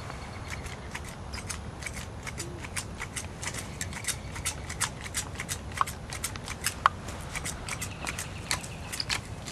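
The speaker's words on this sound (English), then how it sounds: "I'm going to just tidy up the grass right at the edge with my handy dandy clippers." Hand clippers trimming grass along a flower bed edge, snipping in quick irregular bursts of crisp close clicks over soft outdoor background, with no talking.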